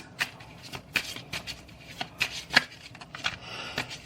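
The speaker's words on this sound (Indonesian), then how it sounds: "Di-shuffle dulu kartunya." A deck of tarot cards is shuffled by hand close up, with soft riffling and crisp slaps and flicks arriving in quick irregular bursts, no voice over it.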